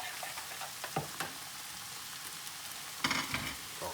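A stir-fry sizzles steadily in a hot pan, a soft constant hiss broken by a few utensil scrapes and stirring clatters.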